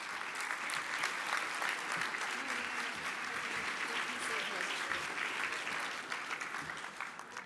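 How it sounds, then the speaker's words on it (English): An audience claps steadily and warmly to welcome a speaker onstage, the applause dense and sustained throughout before easing slightly at the end. "Let's give her a warm round of applause to welcome Pati Jinich."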